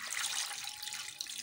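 Water pouring steadily into a cooking pot of meat, a continuous close splashing gush for the whole moment with no voices.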